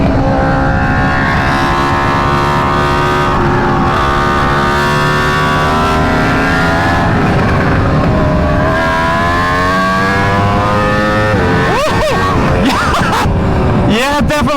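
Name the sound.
Aprilia RSV4 motorcycle accelerating in second gear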